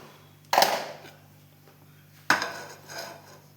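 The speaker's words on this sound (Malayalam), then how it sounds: "ഞാൻ ഗ്യാസ് കത്തിച്ചിട്ട് പാൻ വെക്കട്ടെ" A metal pan set down on a lit gas stove in a home kitchen, giving two distinct clanks about two seconds apart over a faint steady hiss.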